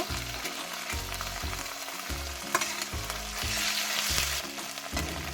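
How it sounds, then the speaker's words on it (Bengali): Ginger, garlic, onion and coriander paste fries in a pan with a continuous close sizzle, broken by a steady rhythm of stirring strokes about once a second. "এগুলো হালকা হালকা ভাজা হয়ে গেছে"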